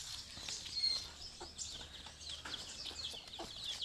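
Several hens cackle and cluck ahead of laying eggs in a farm coop, with repeated sharp, uneven calls overlapping nearby alongside occasional wing flaps, and no talking.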